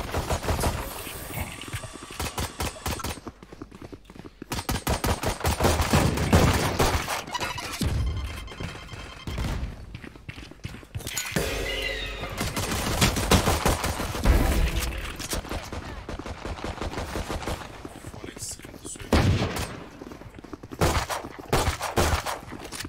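Valorant gunfire crackles in repeated sharp bursts and single shots, mixed with impacts and game effects, close and loud over about twenty seconds with little talk.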